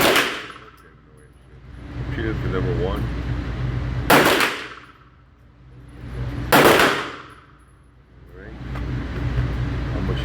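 Three loud, sharp gunshots from a P365X pistol fitted with a Mcarbo trigger, PMM comp and Icarus grip, spaced a few seconds apart. Each shot decays into a long echoing tail over steady outdoor background noise.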